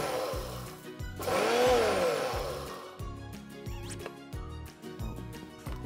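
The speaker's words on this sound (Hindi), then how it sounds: "और ये जो पीस रहे हैं इससे भी पूरा नहीं पीसना, दरदरा पीसना" A kitchen grinder coarsely grinds toasted sesame seeds for a Punjabi til sweet, its motor whirring in repeated short pulses with rattling seeds, rising in a longer loud burst before more stop-start bursts.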